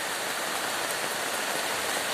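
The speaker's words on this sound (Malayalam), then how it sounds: "നല്ല ശക്തി വെള്ളം ഒഴിച്ച് വരുന്നുണ്ട്" Rainwater rushes strongly along a flooded road during heavy rain, a continuous broad wash of water noise, close and steady, with no talking.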